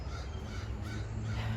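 Close, loud crow caws in a backyard vegetable garden, coming in short repeated bursts over a second and a half with no voices.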